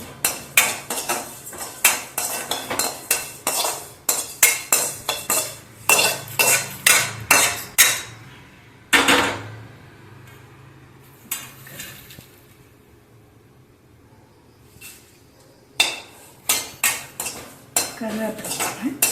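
A utensil stirs cumin seeds in a hot pan, lightly warming them for Iyengar sambar powder: a quick run of sharp metallic scrapes and clinks, a pause, a single scrape, then a few more strokes near the end.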